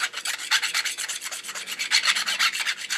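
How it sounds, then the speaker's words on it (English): A small round chainsaw-sharpening file rasps against the end of a brass pen tube to deburr it, a fast, even run of close, bright scraping strokes with no pauses or speech. "deburr that piece of brass"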